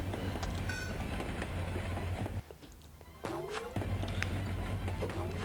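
A train rolls past in a 3DS video game, a steady loud rumble with rhythmic wheel clatter and a brief dip in the middle before the passing noise swells back.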